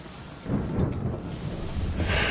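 A thunderstorm at sea in Assassin's Creed III brings a deep rolling rumble of thunder over steady rain and wind, swelling after a quieter opening and staying loud throughout.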